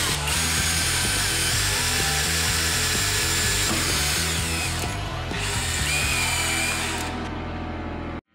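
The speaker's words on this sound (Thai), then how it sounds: "ตัวนี้เราใช้ดอกขนาด4มิลในการเจาะนะคะ" Power drill boring with a 4 mm Bosch drill bit, a loud continuous whining drone for about eight seconds with slight pitch shifts as the bit bites, then cutting off abruptly at the end.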